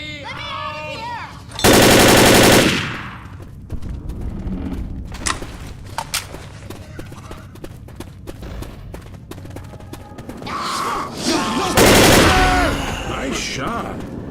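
Bursts of automatic gunfire in the video game Rainbow Six Siege, loud and close, with a long burst early and another near the end, scattered shots and game noise between, and voices talking over parts of it.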